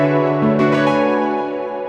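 Single rich R&B keyboard chord with added extensions, struck with a slight roll and left to ring and slowly fade, played alone.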